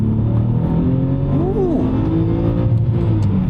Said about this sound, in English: Let's go and take it out for a drive, starting with spirited driving.